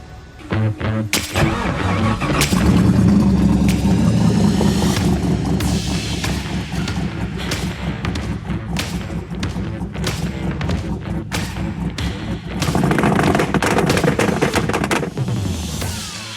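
A Volvo 164 car engine starts with a thump and settles into a loud, steady running rumble, revving up again near the end amid clunks and knocks.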